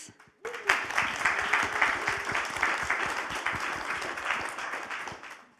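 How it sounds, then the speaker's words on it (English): Audience members applaud the speakers at a talk, a steady, lively burst of many hands clapping that starts abruptly after a brief pause and carries on evenly before tapering slightly at the end. "I would like to start by giving a big round of applause for our speakers."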